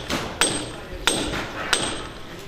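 A hammer strikes a chisel on cans at a Canstruction event in Sialkot, Pakistan: three sharp, evenly spaced metallic knocks with ringing decay, close and fairly loud over background murmur.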